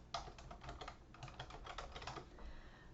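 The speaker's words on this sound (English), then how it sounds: "I'm going to type it in" Rapid clicking keystrokes on a computer keyboard while entering figures into an Excel spreadsheet, a steady quiet patter of taps that continues across the whole moment with no voice.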